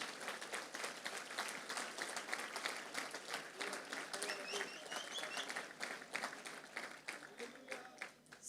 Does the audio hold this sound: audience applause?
yes